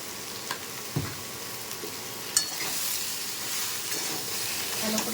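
Pointed gourd and egg frying in a pan make a steady close sizzle and hiss, with a few soft clinks and scrapes of stirring and no talk.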